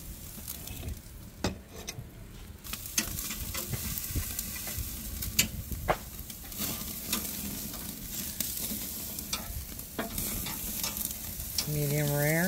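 Steaks and mushrooms sizzle and crackle steadily in a pan, with repeated scraping and stirring clatters throughout, close and moderately loud.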